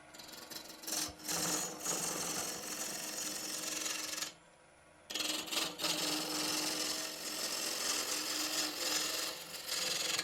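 Wood turns on a wood lathe as the tool slides along the piece, making a steady rasping, scraping drone that stops briefly in the middle before starting up again.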